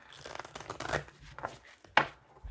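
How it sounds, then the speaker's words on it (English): Tarot cards shuffled at a reading table, a quick series of soft riffling and rustling bursts ending in one sharper flick, close and fairly quiet with no speech. "Two more shuffles."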